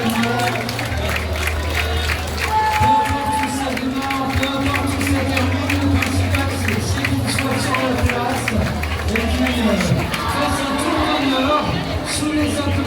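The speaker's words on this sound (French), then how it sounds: "sous les applaudissements du public cambrésien venu en nombre avec le retour du soleil" Crowd in Cambrai applauding and cheering along the Olympic flame relay route, scattered claps and shouts under loud babble and nearby talking, with a low, steady engine-like drone running underneath.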